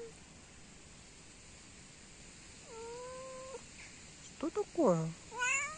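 A cat growls low and drawn out, then lets out several short, rising meows close by, with a voice speaking softly over it.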